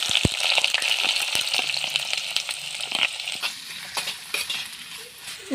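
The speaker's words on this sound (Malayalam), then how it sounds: "നമുക്ക് ഇതിലേക്ക് അരിഞ്ഞു വെച്ചേക്കുന്ന സവാള ഇട്ട് കൊടുക്കാം" Chopped onions hit a hot pan with black peppercorns for a Kerala-style beef stew, giving a loud, continuous sizzle with a few spoon scrapes and taps over it.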